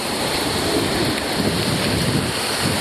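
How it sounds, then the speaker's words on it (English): Waves splash against rocks along a lakeshore on a windy day, a continuous broad wash of water with wind rumbling across the microphone. "You see the waves splashing up over the rocks."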